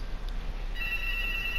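A landline house phone rings in a room: a steady electronic ring tone starts partway through and carries on alone over faint background hiss.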